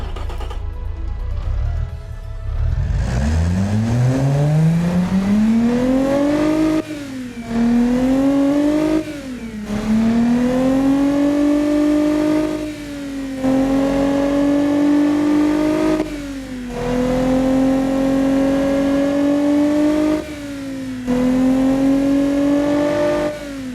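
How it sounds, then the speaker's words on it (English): Tuned car engine revved repeatedly at close range, climbing from idle into a series of sustained high-rpm holds, each broken by a brief drop before the next rev. "let's hear the engine after the successful tune"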